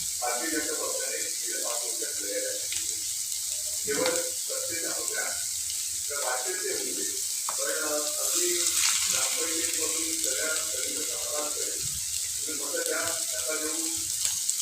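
Stuffed bitter gourd frying over moderate heat, a low continuous sizzle with bursts of stirring and spattering, while a person talks throughout.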